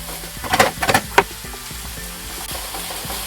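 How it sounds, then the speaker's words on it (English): Minced beef frying in a pan as it is broken up, a steady sizzle under a few sharp scraping and tapping strokes of a utensil near the start, then continuing hiss. "We want to fry this till it's all brown and there's no pink left or any red showing or anything like that."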